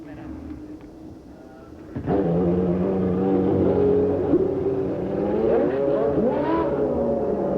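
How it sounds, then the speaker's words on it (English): Formula One cars at the 1993 Canadian Grand Prix pull away for the warm-up lap, engines rising into a loud sustained whine with shifting pitches as several cars pass, while a commentator talks over the noise. "The cars are going out for a warm-up lap"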